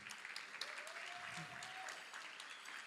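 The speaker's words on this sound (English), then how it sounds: "So again, round of applause." Steady audience applause fills a community summit hall in Grand Rapids, a continuous wash of clapping at moderate distance with a faint tone or voice weaving underneath.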